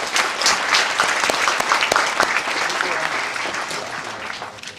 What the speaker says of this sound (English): So let's give them a round of applause, please.